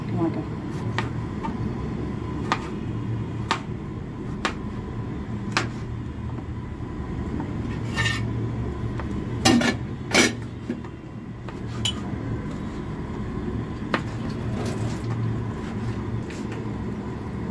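A knife chops tomatoes on a cutting board, giving sharp, irregular taps that stand out clearly against a steady hum of room background noise.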